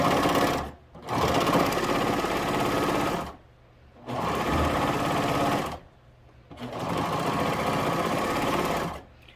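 A sewing machine stitches through layered terry cloth for a soap mitten, running in three long steady bursts of rapid whirring with short pauses between them, loud and close with no talking.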